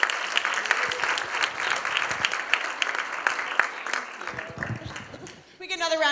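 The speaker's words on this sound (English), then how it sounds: "Round of applause for Craig." A youth summit audience gives a loud, sustained round of applause that fades near the end before a voice starts speaking.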